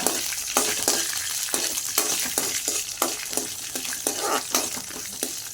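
Vermicelli roasting slowly in a pan for javvarisi semiya payasam, a steady dry crackle with repeated scraping stirs at a regular rhythm, close and moderately loud, no voices.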